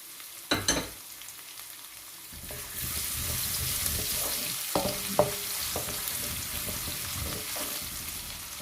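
Thinly sliced garlic dropped into hot oil for a maash and chana daal, a steady soft sizzle rising after a brief clatter and stirring, with a few scrapes and clinks over it.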